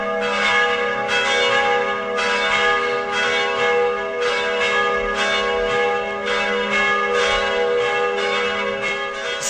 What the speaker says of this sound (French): Ces cloches pour annoncer malheureusement l'effondrement de l'église arménienne Saint-Kevork Mougni de Tbilissi en Géorgie.